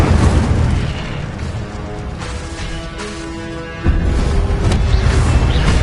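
A fire spell fires in the Hogwarts Legacy video game: deep booming bursts and rumbling whooshes, loud and dense, with a sharp new blast near the end.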